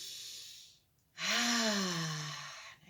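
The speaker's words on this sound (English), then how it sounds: "Breathing in on the way up." During a gentle stretching session, one deep, slow breath is drawn in, audible and close, with a soft sigh-like voiced tone that fades out. It follows a moment of near silence.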